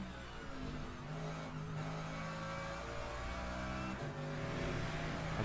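A Lamborghini race car engine roars in a racing video game, a steady, dense drone with shifting pitch as it rises and settles, continuous and moderately loud with no talk.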